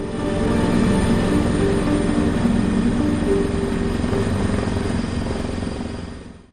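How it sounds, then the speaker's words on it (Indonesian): An EC-725AP Caracal military helicopter of an air squadron flies on a flood relief mission, a steady loud broadband roar of rotor and engine that holds for several seconds, then cuts off. "Helikopter EC-725AP Karakal milik Skadron Udara 8 diterjunkan"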